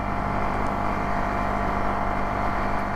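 A 2020-2022 KTM Duke 390 motorcycle fitted with a Powertronic ECU runs at a steady, continuous engine drone while riding, loud and unbroken throughout with no talking.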